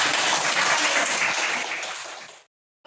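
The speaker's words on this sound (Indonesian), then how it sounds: "Tepuk tangan dulu buat dia" A classroom of students claps for a classmate, the applause brisk and close, tapering off within a couple of seconds before going quiet.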